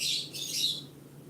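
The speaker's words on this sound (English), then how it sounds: "Because you can hear my birds." Pet birds chirping indoors, a brief burst of high, close twittering calls that fades out within about a second, with no voices.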